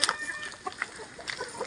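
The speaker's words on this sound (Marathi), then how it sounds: "ह्या साईडला पण एक कोंबडा आहे" Chickens and a breeder rooster cluck in short, scattered bursts on a village poultry farm, fairly close but quiet, with no talking.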